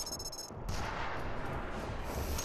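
A grenade explodes in the VR shooter Larcenauts, a single sudden blast with a dense noisy burst that starts abruptly and rumbles on to the end, loud and close.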